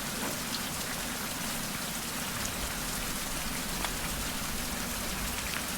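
Steady rain falls in the survival video game Survival: Fountain of Youth, a dense, even hiss of drops on surfaces with occasional brighter droplet ticks, continuous and close with no voices.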